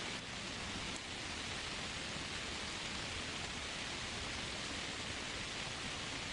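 Steady rain falls as an even, hissing wash of noise, constant and unbroken from start to finish.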